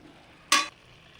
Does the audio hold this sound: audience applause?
no